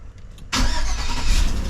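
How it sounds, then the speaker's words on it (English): A Chevrolet Tahoe that has been sitting unused cranks over and starts, then settles into a loud, steady idle close by with no talking. "which I need to turn my car on because it's been sitting"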